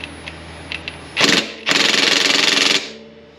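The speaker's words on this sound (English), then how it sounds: "No, this is why they make impact guns." Impact gun loosening the rear wheel axle nut on a 1984 Yamaha Virago 750 shaft-drive motorcycle: a short loud rattling burst, a pause, then a longer sustained hammering burst, close by with no talking.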